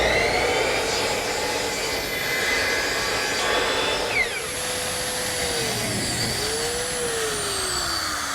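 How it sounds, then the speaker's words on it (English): A power miter saw cuts 45-degree front corners in solid cherry for a Shaker bookcase. It gives a loud, steady motor whine throughout, and the pitch dips briefly as the blade bites the wood. "I'll simply miter those front corners. So I use the miter box,"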